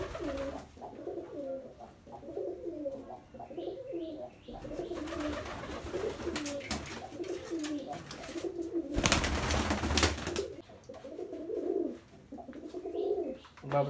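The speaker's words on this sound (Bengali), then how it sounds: "এই যে কবুতরটা খুব বাজি করে।" Pigeons coo in repeated soft, rolling phrases nearby, with a brief burst of broadband noise partway through and no talking.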